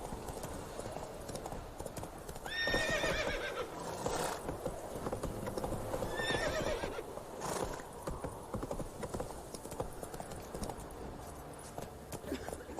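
Horse hooves clip-clopping at a brisk pace in the video game The Witcher 3, with two short whinnies or neighs rising over the rhythmic hoofbeats, moderately close, and a fainter steady patter continuing afterward.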